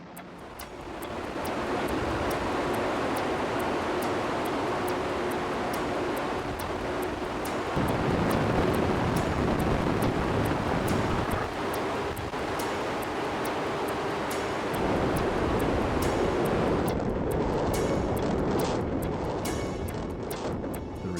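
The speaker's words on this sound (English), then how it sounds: "How will they fare against a 90-mile-an-hour wind," Hurricane-force wind at 90 mph batters test houses in a steady, loud roar. The broadband rushing holds nearly constant throughout, with a few shifts in intensity and no voices.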